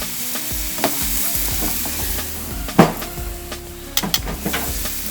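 Flank steak sizzles on an oiled gas grill grate, a steady close crackle broken by a few sharp metallic clanks and scrapes of tongs.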